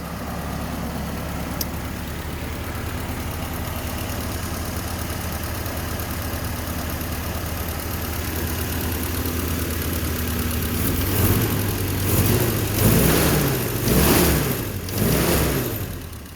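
A 1946 Willys CJ-2A jeep engine idles steadily and close by, a low continuous rumble that grows rougher and busier near the end, with no talking.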